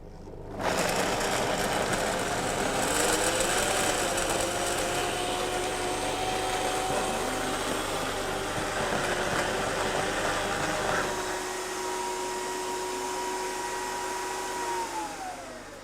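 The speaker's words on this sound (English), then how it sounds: "We just need to blend it all the way until it's nice and smooth." A blender whirs steadily as it purees soaked cashews into smooth cashew cream, a loud continuous motor drone with a falling whine that shifts pitch near the end, running alone without talk.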